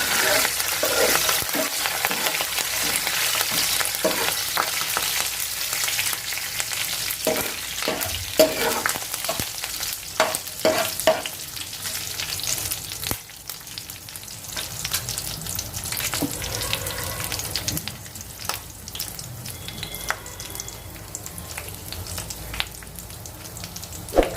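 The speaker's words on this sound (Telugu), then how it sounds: "పోపులన్నీ బాగా వేగుతున్నాయి" Tempering spices fry in hot oil for a bitter gourd dish, a dense crackling sizzle broken by irregular stirring scrapes and pops, close and alone with no talk.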